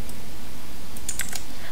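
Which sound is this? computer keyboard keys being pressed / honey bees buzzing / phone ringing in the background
computer keyboard keys being pressed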